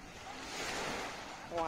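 Dead Sea waves wash and break nearby in a continuous rushing surf, with wind noise buffeting the microphone.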